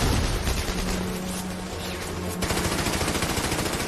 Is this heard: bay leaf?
no